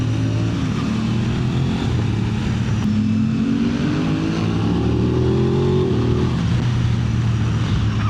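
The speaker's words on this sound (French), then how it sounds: "Je sais pas quel pot il a, mais ça fait un beau bruit" Aprilia RS 660 motorcycle with an unknown aftermarket exhaust rumbles steadily nearby, its pitch climbing and falling through several rev sweeps over a constant road and wind roar.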